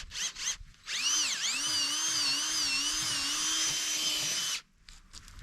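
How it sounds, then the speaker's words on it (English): A power auger grinds into dirt while digging a trap hole outdoors, a close, steady whirring drone that bogs and rises in pitch for about four seconds between short bursts. "Got my auger."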